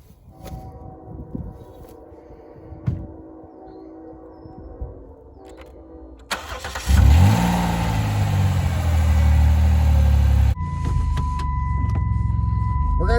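A car running on peanut oil cranks and starts, then its engine settles into a loud steady run. Quieter mechanical noises come first, and the engine tone shifts partway through.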